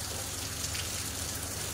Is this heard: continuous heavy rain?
yes